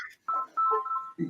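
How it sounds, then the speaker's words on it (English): A mobile phone ringtone plays a short electronic melody of a few quick tonal notes. It is fairly faint and comes through briefly on its own. "Sorry, that was my phone."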